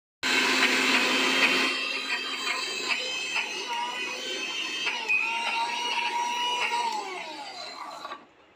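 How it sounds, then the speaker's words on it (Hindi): A mixer grinder whirs loudly as it grinds fried dal in a jar for coconut chutney, a steady high motor whine that starts abruptly, drops slightly in pitch as the load settles, then cuts off. "जार में ये फ्राई वाली दाल भी हम ऐड कर देंगे। यस, और अब फटाफट से इसको हम पीस लेते हैं।"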